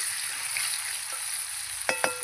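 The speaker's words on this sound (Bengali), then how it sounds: "এবার আলুটা আমি একটু লাল লাল করে ভেজে নেব" Potatoes fry in a pan until browned with a steady, soft sizzle, followed by a couple of brief sharp clinks near the end.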